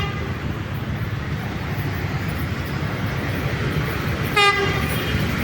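The Jenggala passenger train runs past close by in front of the Jatim Expo building, a loud steady rumble of wheels and carriages that lasts throughout, with one short horn blast near the end.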